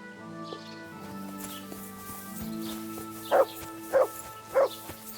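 A dog in the video game Kingdom Come: Deliverance 2 lets out three loud, evenly spaced barks near the end, following quiet whining and soft game ambience.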